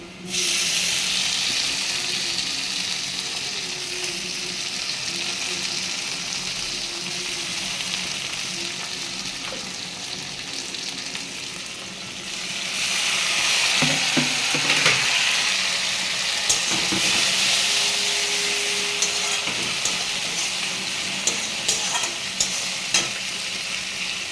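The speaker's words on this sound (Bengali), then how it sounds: "পেঁয়াজটা প্রায় ভাজা হয়ে গেছে" Onion and tomato fry in a pan with a steady, loud sizzle throughout, getting louder and brighter about halfway through, with occasional stirring scrapes and clinks.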